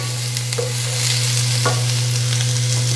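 Onion and vegetables for vegan Korean japchae frying in a pan, an even sizzle with scraping stirs over a constant low hum, close and fairly loud, no speech.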